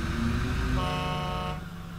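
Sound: vehicle horn honking in video game Construction Simulator 2015

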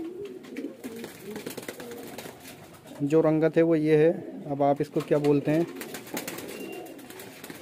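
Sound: pigeons cooing

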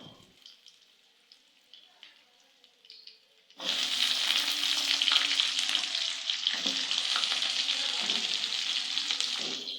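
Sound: ginger and onion frying in a pan

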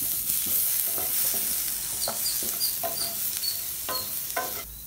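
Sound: sautéing tomato, curry leaves and masala in a pan

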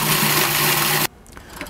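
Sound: food processor grinding praline

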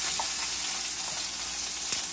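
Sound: meat frying and sizzling on a griddle for chopped cheese

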